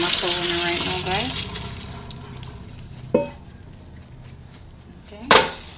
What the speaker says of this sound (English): right now I'm draining my macaroni right now